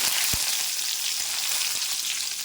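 Curry leaves sizzle and crackle in hot oil on a stove set to low, a steady close frying hiss with a few sharp pops, heard alone without any voice.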